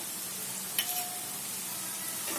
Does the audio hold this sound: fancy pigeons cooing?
no